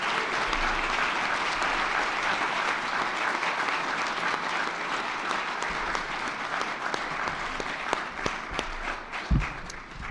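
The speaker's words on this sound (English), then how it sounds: "Please join me in one last round of applause for all of our inductees today." Sustained applause fills a hall at a college athletic hall of honor induction ceremony, a broad crowd clapping steadily for the inductees, with a few sharper claps and a thump near the end.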